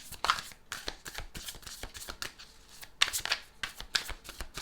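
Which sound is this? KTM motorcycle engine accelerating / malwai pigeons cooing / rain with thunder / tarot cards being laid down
tarot cards being laid down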